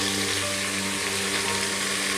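Ginger garlic paste and mint sauté in ghee for seeraga samba ghee rice, a loud dense continuous sizzle with a low hum beneath it and no talking.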